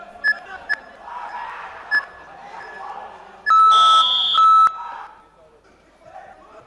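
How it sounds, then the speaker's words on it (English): A loud electronic match timer beep blares for about a second over crowd noise and commentary at the AMMA Youth Championship, after several sharper short beeps and thuds. "we hear the timer in the background"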